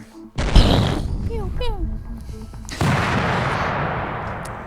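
Weapons fire from a warship aimed at an enemy vessel: a sharp blast, then rising pulsing sci-fi tones and a second broad roaring burst that trails off, with voices around the shots.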